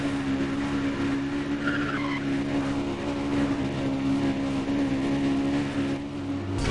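A car in the Need for Speed Undercover video game skids through a full-throttle turn, a sustained tire squeal over a loud steady engine drone, continuous and close without talking.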